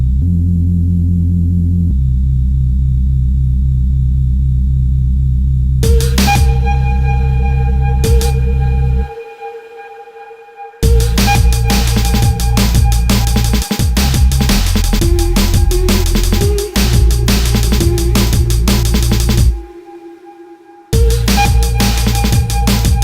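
A Reese bass synth sound played on an Amigo Sampler gives a loud, deep, sustained bass drone with a wavering tone, joined by higher synth tones. It stops abruptly twice, and no one speaks.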